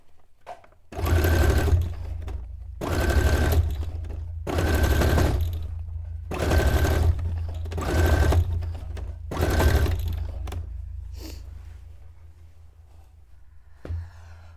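A sewing machine runs in five bursts of steady mechanical whirring, each a second or so long, separated by short pauses, close and fairly loud, sewing a cone-shaped cape.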